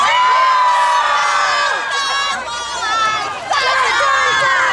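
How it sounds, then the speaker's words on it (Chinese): An outdoor Taiwanese-song concert audience in Zhongli screams and cheers loudly in light rain, a dense, continuous wall of shrieking voices that dips briefly and then surges again. "我希望听到你们的尖叫声来一下好不好"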